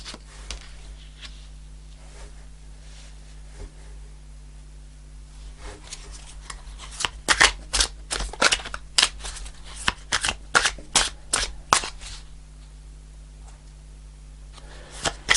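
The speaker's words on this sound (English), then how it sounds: "I'm just going to shuffle for a bit longer" Tarot cards are shuffled close by, starting with soft quiet handling, then a burst of crisp riffling and slapping flicks before easing off again.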